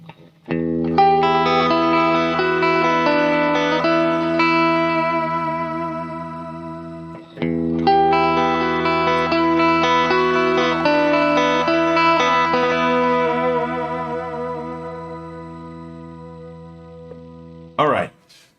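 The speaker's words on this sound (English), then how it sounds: "So there you have some clean tones. This one is a patch that I made myself." Clean guitar tones from a self-made patch on a Hotone Ampero effects processor ring out as sustained, chorus-rich chords with a short break in the middle, loud and up close.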